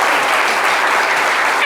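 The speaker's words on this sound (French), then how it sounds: "Ça s'applaudit, je pense" Studio audience on a live French-language talk show breaking into applause, a dense, loud, even burst of clapping filling the whole moment without pause.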